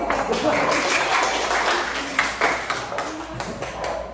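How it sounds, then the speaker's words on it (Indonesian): A crowd of children clapping together in a noisy room, quick overlapping claps with voices chattering underneath. "Ya, tepuk tangan dulu."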